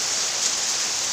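Steady rain falling, a soft even hiss with no distinct drops, fairly quiet and alone.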